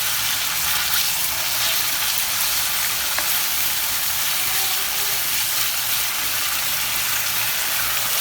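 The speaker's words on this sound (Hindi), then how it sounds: "और इसके साथ मिला के हम चिकन को अच्छे से भून लेंगे।" Chicken pieces frying with garlic paste in a hot pan, a loud, steady hiss and sizzle with faint crackle, continuous and close with no talking.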